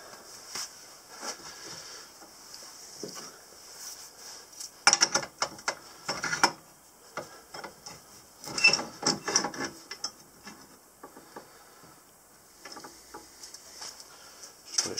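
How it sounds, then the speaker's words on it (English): A lathe tailstock being tightened onto pen bushings while setting up a twist-action pen blank gives soft mechanical clicks and ratcheting ticks, close and quiet, in a few scattered bursts. "Last bushing, and tighten the tailstock."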